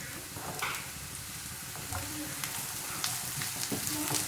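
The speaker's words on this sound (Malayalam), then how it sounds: "ഒന്ന് ഇളക്കി കൊടുക്കാം." Vegetables, beans among them, frying in a pan for egg fried rice and being stirred: a steady close sizzle throughout, with light scraping and stirring clicks on top.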